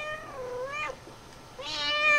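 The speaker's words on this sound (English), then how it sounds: "No, stupid cats!" Two drawn-out cat meows, the first rising and falling, the second brighter and louder after a brief pause, close and clear over faint background noise.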